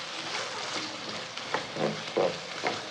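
Spiced keema and potatoes get stirred in a pan, soft scraping and a faint sizzle swelling into a few louder strokes toward the end, with no talking.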